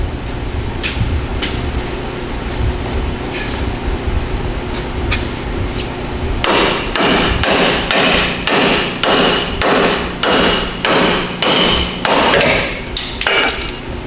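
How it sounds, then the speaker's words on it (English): Repeated heavy metallic hammer strikes driving a pickle fork, about a dozen in a steady rhythm, ringing close and loud after a stretch of quieter workshop background. "So I'm gonna use a big old pickle fork and just take a big old hammer and just drive it right in"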